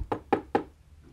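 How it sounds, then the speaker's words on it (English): Knocking on a front door: three evenly spaced raps, clear and close, followed by a short quiet tail. "she could hear a faint knock"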